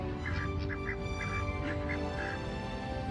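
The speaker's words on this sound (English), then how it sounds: "Just your standard duck, I guess. They're all yapping though." Ducks at a pond give scattered nasal quacks and honks, several short calls spread at moderate distance over a steady outdoor background hum.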